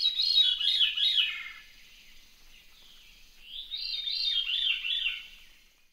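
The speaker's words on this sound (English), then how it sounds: "The Veery, which tends to be rather rufous-toned without much spotting below, has a song that spirals downward" Veery thrush song, two phrases of rippling, downward-spiraling notes with a quiet gap between them, clear and moderately near.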